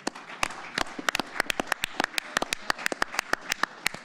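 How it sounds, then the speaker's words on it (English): Sparse applause at a boxing press conference, a handful of distinct close claps ringing out in an irregular rhythm rather than a full crowd ovation. "Let's get a round of applause for Thomas Treiber."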